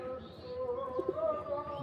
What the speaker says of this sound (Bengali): আর একটা পায়রা শখ করাচ্ছি, পায়রাটা মাদি পায়রা